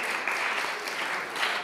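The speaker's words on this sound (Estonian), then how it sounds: "Nii et aplaus Aphroditele." Crowd applause for the dance troupe Aphrodite at its fifth anniversary show, a steady dense clapping that fills the hall for under two seconds with no pause.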